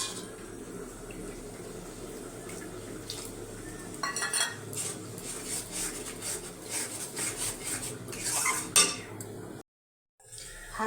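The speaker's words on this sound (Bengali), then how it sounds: "বাটিটা ধুয়ে একটু জল দিয়ে দেবো।" A bowl is rinsed in a kitchen sink while preparing katla fish rezala, with running water splashing and dishes clinking steadily, a brief silent gap, then more clatter.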